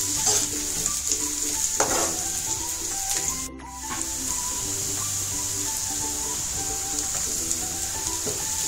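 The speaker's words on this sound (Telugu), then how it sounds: "ఫ్రైడ్ ఆనియన్స్ అయితే ఫ్రై చేస్తున్నాను" Onions frying in oil in a pan until golden brown for mutton keema biryani, giving a steady, close sizzle throughout with occasional stirring scrapes and a brief dip near the middle.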